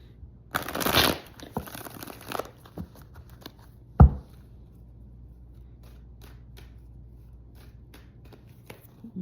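A deck of cards is shuffled by hand up close: a dense riffle burst early on, then scattered soft flicks and taps, with one sharp knock as the deck is squared.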